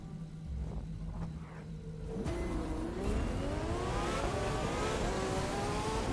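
A car engine in the video game The Crew 2 revs up and climbs in pitch, whining steadily louder as it accelerates with no one speaking.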